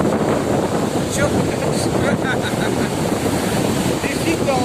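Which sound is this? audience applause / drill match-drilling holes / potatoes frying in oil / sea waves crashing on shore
sea waves crashing on shore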